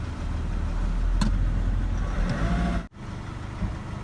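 A Nissan Navara D40 diesel pickup engine idles close by with a low, uneven rumble and faint knocking, running rough with a slightly dropped idle, steady throughout apart from one brief dip.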